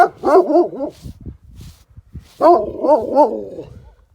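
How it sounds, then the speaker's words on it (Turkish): A dog barks repeatedly in two bursts of rapid, yelping barks, loud and close, its echo returning as a faint tail in the pauses. "sen buradan havlıyorsun oradan senin sesin yankılanıyor"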